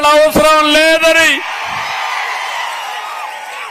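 Someone speaks loudly at a Chandrababu political rally, then a large crowd answers with a sustained, distant-sounding roar of cheering and clapping that holds steady to the end.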